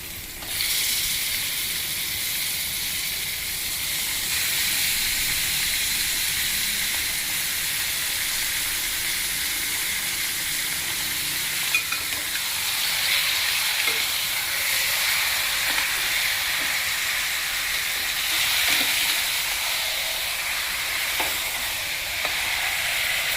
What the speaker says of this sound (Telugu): ఇప్పుడు ముందుగా కడిగి ఉంచుకున్న మటన్ వేస్తున్నాను.